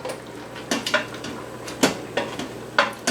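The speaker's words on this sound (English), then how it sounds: "So we're going to put the coconut chunks in there." Pineapple chunks dropped into an Instant Pot for piña colada chicken, landing in several separate knocks and clatters against the metal inner pot, close and clear with quiet gaps between them.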